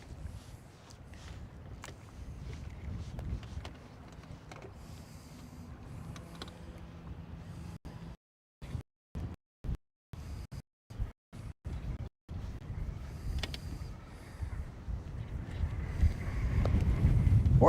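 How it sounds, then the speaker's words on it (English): Wind blowing outdoors on Lake Guntersville, a faint low rumble of gusts against the microphone, broken midway by a run of brief dropouts before the noise builds louder toward the end. "It may get a little trickier to have mic off moment because the wind is blowing."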